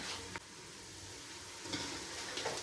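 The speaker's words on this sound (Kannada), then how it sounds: "ಆನಿಯನ್ ಫ್ರೈ ಆಗಿದೆ, ಶುಂಠಿ ಬೆಳ್ಳುಳ್ಳಿ ಪೇಸ್ಟ್ ಹಾಕೊಳ್ಳೋಣ." Ginger garlic paste frying in hot oil with onions for biryani, a steady close sizzle throughout with a few brief stirring clatters.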